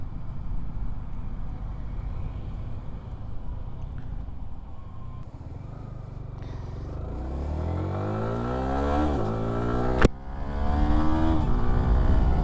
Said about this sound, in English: The quick shifter doing its duty again.